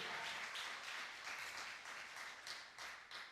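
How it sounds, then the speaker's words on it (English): Audience clapping at an evening publication celebration, a steady wash of many hands that stays fairly even for a few seconds, with a few louder swells near the end and no talk over it. "clap it up for yourselves for making it tonight through the rain, through the fog, through the commute"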